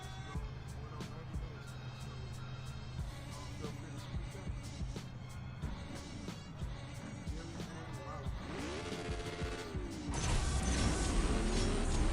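Engines roar in the CSR2 racing video game, a steady tonal drone that builds and shifts pitch, ending in a louder, harsher surge of acceleration.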